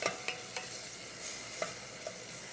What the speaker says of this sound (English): You can hear the sizzle built like that under this avocado oil.